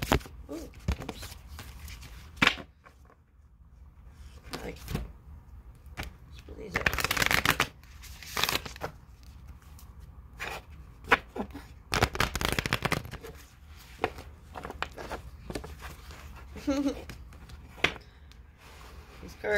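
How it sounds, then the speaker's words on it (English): A deck of tarot cards is shuffled in bursts, with repeated riffling rasps and sharp taps between quieter pauses, heard close and intermittently alongside someone speaking. "These cards are getting hard to shuffle."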